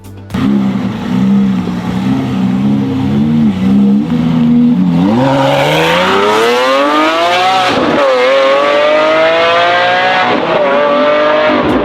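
A Lamborghini Aventador SVJ Roadster's 6.5-liter V12 in Need for Speed drones steadily, then revs hard and climbs through repeated upshifts, loud and close with no talk.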